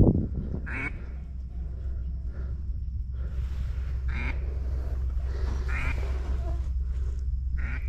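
A big flock of wild ducks, including gadwall, quacking repeatedly in the open during Louisiana duck season, calls rising in loud bursts over a steady low background rumble.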